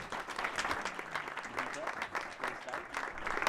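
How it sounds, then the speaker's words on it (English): An audience at a London business keynote on generative AI claps steadily for a few seconds, a fairly faint, even patter of many hands with a murmur of crowd underneath. "let's have a round of applause for Vincent"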